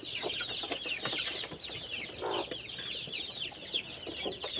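Young chicks in a farmyard enclosure cluck and cheep continuously, a busy chorus of high chirps and short clucks from several birds nearby, with a few rustles mixed in.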